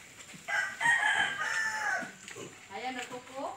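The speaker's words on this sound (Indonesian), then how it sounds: "Ayam dah kukuk." A rooster crows once in a long, drawn-out call, fairly close and clear, followed by softer clucking and chatter of fowl in an outdoor setting.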